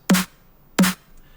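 Two separate snare drum hits, each with a punchy crack and a short noisy tail, spaced well apart with silence in between.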